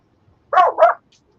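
A dog barks twice quickly at a cat on the back deck, fairly loud and near, with silence before and after.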